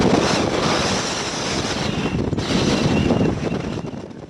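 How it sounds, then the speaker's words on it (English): Wind and waves batter a sailboat at sea, a loud, continuous rush of gusting wind and crashing water with surging swells that rise and fall. "the winds battered the boat and Bill's spirit"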